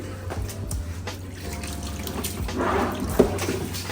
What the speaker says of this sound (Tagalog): kailangan ng 2-3 beses na yung linis na mabuti yan para walang buhangin o tubig.